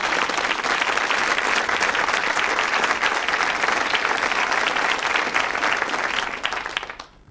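Sustained applause from a studio audience welcoming the suspects on a 1974 British whodunnit game show, loud and dense throughout before fading away at the end.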